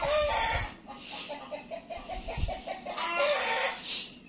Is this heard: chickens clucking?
yes